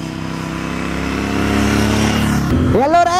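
A Royal Enfield Interceptor 650 motorcycle ridden on a twisty road, a steady, fairly loud engine drone with harmonic tones that climbs gradually, then a gear change and renewed revving near the end.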